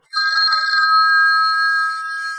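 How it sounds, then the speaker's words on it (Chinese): A telephone rings in an animated drama set in the 1980s, giving a steady, continuous electronic trill that holds evenly for a couple of seconds without any talk. "黄总啊，怎么想起给我打电话了？"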